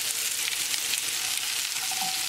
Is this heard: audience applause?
no